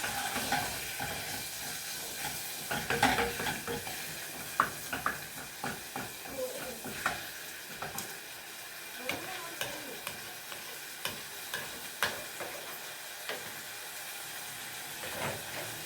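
Coriander and garlic fry in a pan for a homemade okra stew, with a continuous low sizzle and frequent sharp spoon clicks and scrapes against the pan.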